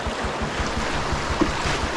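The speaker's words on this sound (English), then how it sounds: "Some big standing waves near the bottom though." River water rushing over class 1 rapids with big standing waves in the Yukon wilderness, a steady loud wash with wind buffeting the microphone and no speech.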